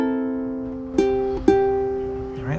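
A ukulele repeats the same short phrase of Hawaii Ponoi, a ringing chord then two sharp strummed chords that sustain close and clear.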